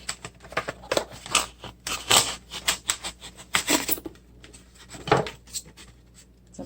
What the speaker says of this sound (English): you can cut the pumpkin open